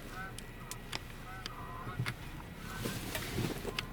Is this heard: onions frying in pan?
no